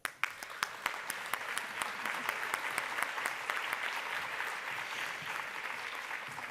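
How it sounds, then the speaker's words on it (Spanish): Steady applause from a conference audience greets a speaker taking her place at the table, with sharp individual claps at the start quickly merging into an even, moderately distant wash of clapping. "Mariola, un aplauso."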